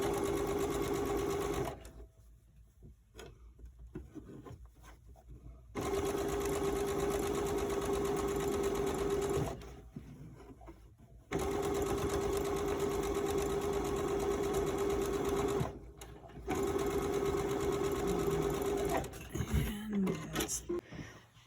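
A sewing machine stitches along the bottom edge of a fabric face mask in steady whirring bursts, three long runs separated by pauses, close and clear, with someone talking between runs.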